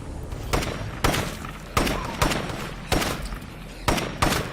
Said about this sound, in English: Bloater, I better shoot before it gets close.